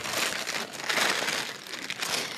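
Plastic cereal bag crinkling and crushing steadily in a kitchen while chicken cutlets are breaded, a dense, loud, continuous rustle with no talking.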